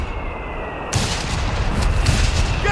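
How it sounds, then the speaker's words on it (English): Mortar barrage in the Company of Heroes 3 video game: a quieter rumble gives way to a sudden loud burst of heavy, dense artillery fire that keeps rolling and thumping near and close for the rest of the moment. "Get those mortars ready for action!"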